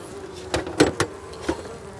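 Honeybees at an opened hive, lightly smoked, buzz softly as a few individual bees zip past close by in brief swells over a quiet hum.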